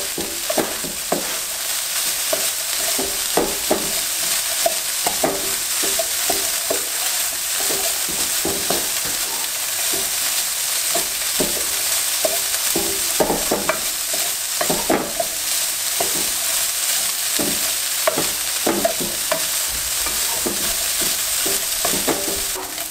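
Chinese fried rice sizzles steadily in a hot pan while a utensil stirs and scrapes through it, giving a dense crackle with repeated irregular clacks over about twenty seconds, no voices.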